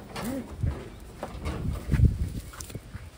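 Wantai pigeons giving soft, low coos close by in a loft, with a few brief murmuring calls over light shuffling and background rustle.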